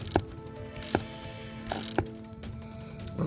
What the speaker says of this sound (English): I believe this bolt is plastic. And so you just loosen it up.